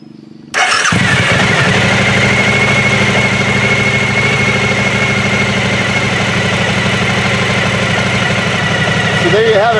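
A Suzuki DL1000 V-Strom motorcycle fitted with a Holeshot aftermarket exhaust starts with a sudden burst, then settles into a steady, loud, close rumbling idle that holds evenly throughout.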